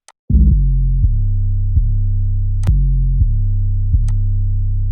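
An FL Studio 808 bass line for a trap beat, played without any slide note: deep sustained sub-bass notes changing pitch in steps, with sharp clicks marking each new note and a few crisp high ticks, no voices.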